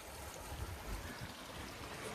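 Rainwater from heavy rain and snowmelt flowing through a culvert and rolling over the road at an off-grid homestead, a steady faint outdoor rushing and trickling without pause.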